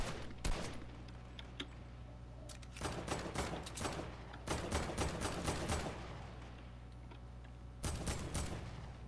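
Video game gunfire rattles out in rapid automatic bursts, several sharp volleys separated by short pauses, close and loud with no talking.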